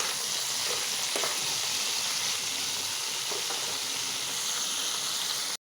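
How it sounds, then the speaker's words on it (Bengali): Potato and eggplant pieces fry in oil with turmeric and salt, giving a steady, loud, continuous sizzle with faint stirring clicks and no voices. "ডিম রান্না করার জন্য আমি আলুটা আর বেগুনটা ভেজে নিতেছি হালকা হলুদ আর তেল লবণ দিয়ে"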